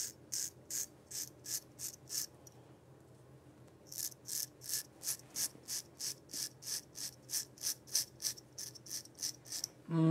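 A Zomchi double edge safety razor in a wet shave: quiet, close rhythmic scraping strokes in quick, even succession, pausing for about a second and a half before the strokes resume at the same pace.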